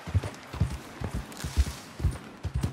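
Horse hooves in Red Dead Redemption, a steady close clip-clop at a quick trot, rhythmic and even, with no talk over it.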